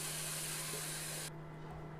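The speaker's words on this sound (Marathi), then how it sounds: "छान मिक्स केल्यानंतर आता इथे दूध घालायचं आहे." Milk poured into a hot pan of roasted vermicelli with sugar for kheer, a brief loud hissing rush that cuts off abruptly, leaving a quieter faint bubbling.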